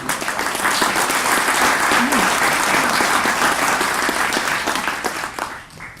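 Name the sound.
audience applause for symposium presenters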